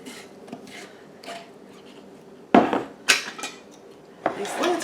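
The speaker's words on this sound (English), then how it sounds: "I'm just going to put the lids on there." Lids are screwed onto glass canning jars of green beans and bacon, with scattered scraping, clinking metal-on-glass turns, faint at first and then louder, rasping twists in the last half.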